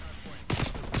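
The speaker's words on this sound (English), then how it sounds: "He's shooting the wood." Rapid bursts of gunfire in the first-person shooter Call of Duty Black Ops Cold War, two loud volleys in the second half after a quieter lead-in, close and sharp.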